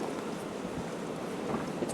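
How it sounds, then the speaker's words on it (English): Strong wind rushes outside a door that has just been forced open, a steady broadband roar with gusty buffeting against the microphone and no voices. "It's windy as hell."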